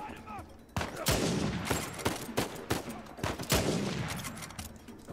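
Gunfire in the video game Uncharted 4: a rapid series of sharp, loud shots in irregular bursts, with some louder cracks among them and brief voice sounds mixed in.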